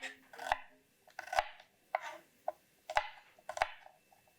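A knife chops a big red chili, shallot and garlic into small pieces on a board, with irregular close, crisp strikes, about a dozen in quick bursts, and no talking.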